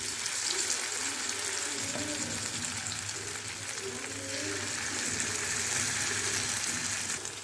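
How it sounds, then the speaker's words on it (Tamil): Anchovies sizzle steadily in hot oil in a pan, with a constant bright hiss and faint bubbling throughout, loud and close with no talk. "இப்போது மீனெல்லாம் எண்ணெயில் சேர்த்தாச்சு"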